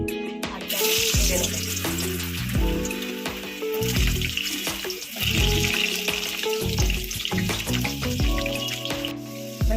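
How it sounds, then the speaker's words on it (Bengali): Potatoes frying in a pan give a continuous sizzle and crackle, heard close up beneath a rhythmic tonal background that pulses throughout. "আলুগুলো ভাজা হয়ে গেছে, তুলে নেবো।"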